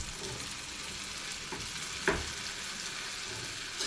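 A spicy red omelette sizzles steadily in a pan, a continuous close hiss of frying with a small clatter partway through, no voices.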